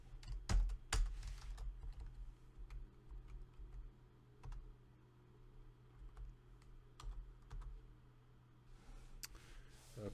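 Quick, light keystrokes on a computer keyboard come in uneven bursts and pauses, close and fairly quiet, with no voices.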